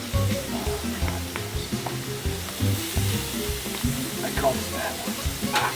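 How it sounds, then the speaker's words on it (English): Steaks and marinated onions sear on a grill with a steady, close sizzle and crackle, while someone talks briefly over the sound. "So we're gonna put everything on the grill now"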